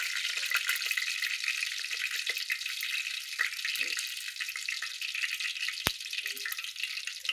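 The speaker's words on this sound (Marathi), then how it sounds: "आता काय जिरी मोहरी टाकली बघा." Cumin and mustard seeds sizzle and crackle in hot oil, a dense, close, steady hiss with scattered pops running throughout, with a brief sharp click partway through.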